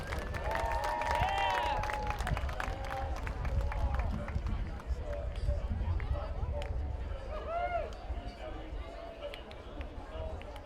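At a college football game, a stadium crowd gives scattered applause and cheers for a fan's field goal kick attempt, distant and diffuse, mixed with crowd chatter and whistle-like tones.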